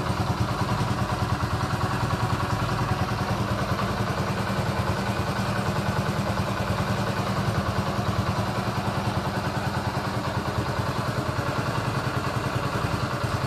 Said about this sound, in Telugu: ఇప్పుడైతే ఒకసారి అయితే మీరు ఇంజన్ సౌండ్ అయితే వినండి